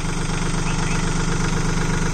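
A Swaraj Target 630 30 HP mini tractor with a Yanmar 1.3-litre engine idles steadily, a loud, close, continuous knocking diesel rumble with no break.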